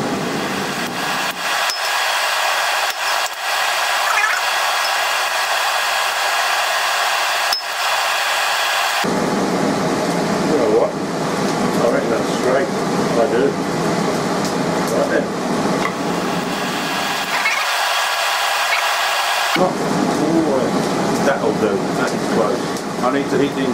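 A blacksmith's forge roars steadily while steel punches are heated to a dull red, with the blower noise rising and dropping in level and a voice talking over it at times.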